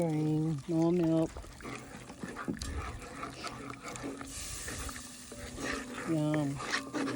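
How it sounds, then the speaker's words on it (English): Milk is poured and stirred into a seafood mornay sauce at a camp cooking setup, giving soft sloshing and spoon scraping close by. People talk over it, with bursts of higher-pitched voices. "Gotta keep it stirring. More milk."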